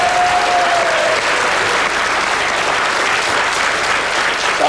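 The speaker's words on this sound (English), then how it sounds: "You're a big round of applause." A studio audience gives a loud, sustained round of applause on a 1980s British TV game show, dense and even from start to finish, with a brief tone near the beginning.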